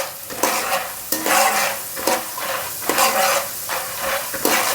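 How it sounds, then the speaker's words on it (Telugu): Roasted gram dal (putnala pappu) frying in oil for a poha mixture, a loud steady sizzle broken by regular scraping strokes of a spoon stirring through the pan. "పుట్నాల పప్పు కూడా ఈ విధంగా వేయించుకోవాలి"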